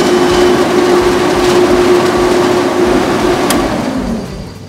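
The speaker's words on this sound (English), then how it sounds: "we're ready to start the compressor up" An ES 4000 air compressor starts up and runs with a loud, steady mechanical drone and a constant hum, then the sound thins and fades toward the end.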